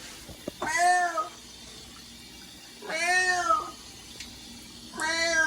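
A cat meows three times with pauses between, each cry drawn out and clear, close by over a quiet background.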